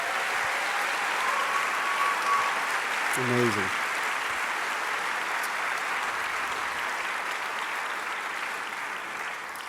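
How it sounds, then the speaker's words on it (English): Audience applause fills a university chapel at Lee University: dense, steady clapping from a large crowd that carries on evenly through the whole stretch, with a voice briefly speaking over it. "Can we give them a round of applause?"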